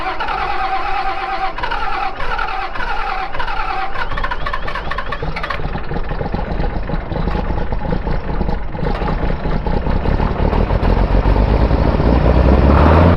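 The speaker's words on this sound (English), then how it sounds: "Do you think the tractor will start on a 40-degree day today?" A tractor engine cranks and catches on a 40-degree day, then settles into a loud, rumbling idle that continues steadily close by.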